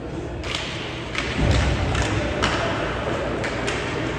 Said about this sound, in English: Trotar and Ing banging away in the end boards